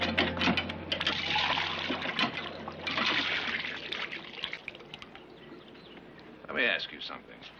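Water trickles and pours steadily into a drinking vessel for several seconds in a quiet indoor Old West scene, a faint low hum underneath and a brief louder splash near the end.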